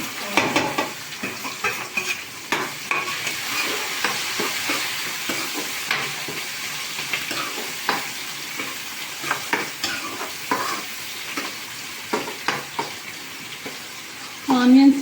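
Onions fry in oil in a pan, a steady low sizzle broken by repeated scrapes and taps of a stirring spoon, with a short louder burst near the end.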